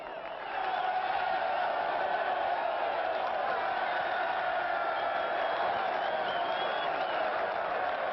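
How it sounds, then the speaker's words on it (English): A large crowd at a prison uprising sends up a big sustained yell and roar, loud and steady from start to finish with no pauses. "I got the crowd, but I want to get closer for you. You give me a big yell, huh?"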